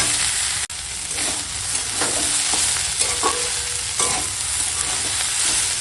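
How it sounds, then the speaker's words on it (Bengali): Ginger-cumin paste being sautéed in a pan, a steady broadband sizzle with scattered scraping stirs and a brief sharp knock near the start, close and continuous without talk. "আদা জিরে বাটাটার সঙ্গে একটু কষিয়ে নেব"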